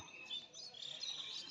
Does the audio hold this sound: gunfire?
no